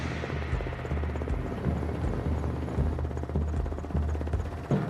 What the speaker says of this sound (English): we board one of the Nigerian Army's helicopters